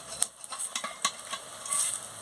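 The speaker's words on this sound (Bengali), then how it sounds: "হয়ে গেছে আর এক দিকটা উল্টে নিচ্ছি" Drumstick flower fritters in hot oil being turned over, with soft sizzling broken by several sharp clinks and scrapes of a utensil in the pan.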